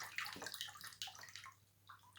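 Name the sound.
water pouring through colander holes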